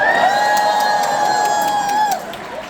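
Audience at a Seattle comedy show cheering and whooping, loud sustained shouts with high voices rising over the crowd, then tapering off near the end.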